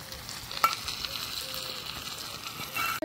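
Fried prawns going into a pan of jackfruit and potato curry with ginger, garlic, cumin and chilli pastes, giving a soft, steady sizzle and stirring scrape with one sharp clatter near the start.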